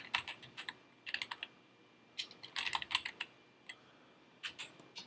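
Quick bursts of typing on a computer keyboard, close and fairly quiet, with clustered keystrokes separated by short pauses.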